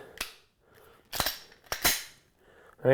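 A pistol is dry fired with a dry fire magazine, giving three sharp, close clicks and snaps spaced about half a second apart in a quiet room, with a voice just starting at the end.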